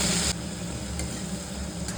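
Chilli and turmeric powder frying in hot oil with softened onions for a Bengali duck egg curry, a steady close sizzle with light stirring scrapes, no talk.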